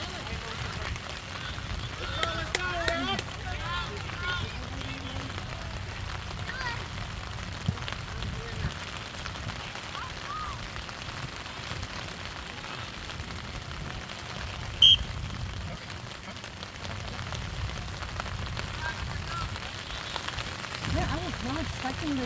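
Rain falls on a surface in a continuous soft patter and hiss, fairly quiet and steady, with scattered louder taps and faint voices talking in the background.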